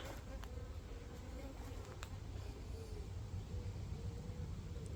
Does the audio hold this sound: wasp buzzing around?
yes